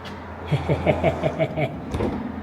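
A Tesla car door opens close by with a quick run of evenly spaced mechanical pulses, then a soft thump as it releases, at moderate volume.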